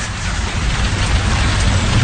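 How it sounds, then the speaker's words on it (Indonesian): Heavy rain pours down in a loud, continuous, dense hiss of drops, with no voices. "hujan tiba-tiba saja turun dengan deras"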